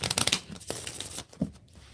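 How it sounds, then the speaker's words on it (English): Crisp papery riffling of cards in a quick burst, followed by a couple of softer flutters and taps, close up and fairly quiet. "All right, let me do one more shuffle."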